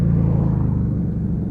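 Lexmoto Vendetta five-speed motorcycle engine rumbling steadily with a brief blip of revs while rev matching on a downshift, close and loud with no talking.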